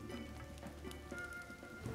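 Light rain in the survival game The Forest patters softly in the background, a faint hiss with scattered drop ticks and some low tonal game ambience underneath, no speech.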